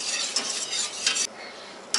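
Cheese being stirred into a cauliflower cheese sauce, with a spoon scraping and swishing against the pan in a steady close rhythm and a few sharper clinks.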